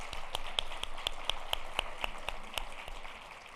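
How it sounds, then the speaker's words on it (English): A small audience at a health policy lunch plenary gives the panelists a short round of applause, with sparse, distinct claps close by and no talking. "Let's give them a round of applause"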